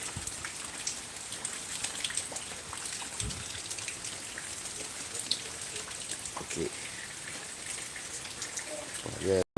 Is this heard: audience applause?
no